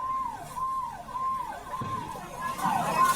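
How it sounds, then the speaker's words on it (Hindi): Wailing siren of a fire brigade vehicle responding to a burning call centre, its rising and falling tone cycling steadily and fairly close, with traffic and street noise underneath. "फायर ब्रिगेड की गाड़ी मौके पर पहुंची हुई है, आग बुझाने का प्रयास कर रही है।"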